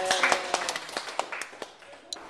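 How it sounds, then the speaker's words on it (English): A small group claps for someone at a UnitedHealth HEROS event in Florida. The claps are scattered and uneven and fade as they go, mixed with cheering voices and chatter. "Give him a round of applause."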